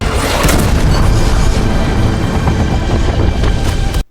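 A helicopter blows apart in an action film scene from Top Gun, a loud, sustained roaring blast with rumbling debris that fills the moment before cutting off abruptly.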